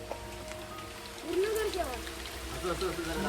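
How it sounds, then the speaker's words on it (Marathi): Steady heavy monsoon rain patters and hisses on a surface throughout, in a forest in Konkan, with faint scattered tones rising briefly above the downpour. "पाऊस मित्रांनो बघताय पाणी खूप जोरातच पाऊस पडतोय"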